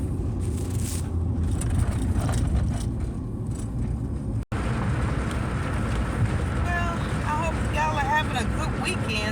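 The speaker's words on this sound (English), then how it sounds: "It's kind of windy out here." Wind gusts outdoors on a hot day, a steady broadband roar buffeting the microphone throughout, with a voice talking over the second half.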